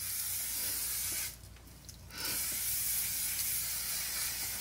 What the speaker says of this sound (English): I'm gonna spray this all over kind of the top layer